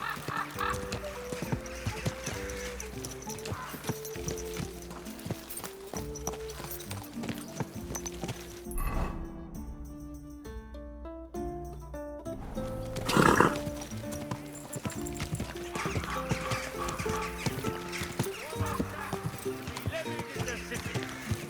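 A horse in Kingdom Come: Deliverance 2 lets out a neigh amid steady clip-clopping hooves, set against game music and spoken dialogue, with a brief musical interlude midway.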